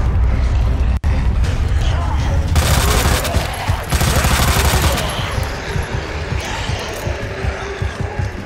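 Gunfire rattles in Resident Evil 2 Remake during the survivor mode, rapid bursts of shots thundering close and loud over a busy, chaotic game background.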